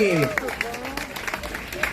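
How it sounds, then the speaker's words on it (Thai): An audience applauding young performers at an entertainment launch event, with clapping spread through the clip beneath an announcer's voice and crowd murmur. "ปรบมืออีกครั้งครับ"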